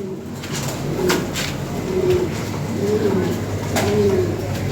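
Lahori pigeons coo in a steady series of soft, low, rolling calls, several distinct coos repeating at close range over a faint background hum.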